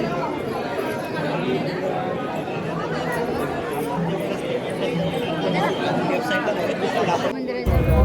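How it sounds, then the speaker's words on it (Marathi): Steady babble of many voices in the crowded darshan queue at Tuljabhavani temple, continuous and close, with a brief louder bump near the end. "दर्शनाची गर्दी."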